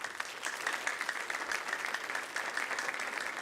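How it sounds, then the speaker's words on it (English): Steady, moderately distant applause from an audience at a school sports awards ceremony, honoring the volleyball team and its helpers, continuous throughout without talk. "if we can give them a round of applause"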